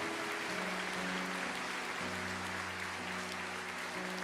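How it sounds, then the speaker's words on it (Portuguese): A church congregation claps steadily through a service, a dense sustained wash of applause over a held organ or keyboard chord, with no talk. "a igreja aplauda o Senhor"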